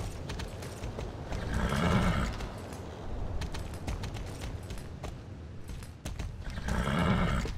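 A horse ridden in Star Stable Online, steady clip-clopping hoofbeats running through the clip with two loud whinnies, one early and one near the end, and no talking.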